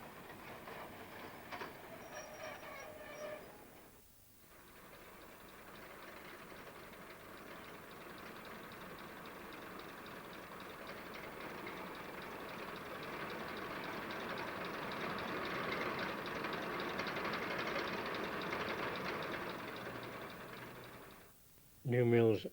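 A heritage train on the line between Sheffield and New Mills pulls into the down platform at New Mills Central Station and comes to a stop. Its steady engine and rolling rumble builds, then fades at the end, with a brief pause near the start.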